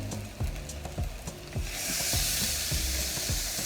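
Mackerel fillets hitting a hot pan, with a steady loud sizzle and hiss building up under scattered clinks and taps of utensils, close and continuous.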